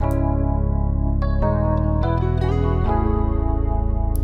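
A guitar-like melody transposed down one semitone plays in mellow sustained tones over a steady pulsing beat, loud and continuous, with no voices.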